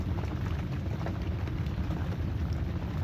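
Steady light drizzle at a bagan fishing platform in Kohod in the early morning, a soft even hiss of rain with low wind-like rumble, continuous and moderately faint, no one speaking.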